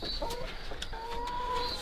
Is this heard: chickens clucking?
yes